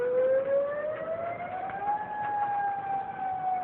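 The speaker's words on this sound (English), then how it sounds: "That's louder than the other siren was before." An outdoor tornado warning siren wails steadily, its pitch rising slowly and then holding a long sustained tone, loud over a constant wind-like background with no talking.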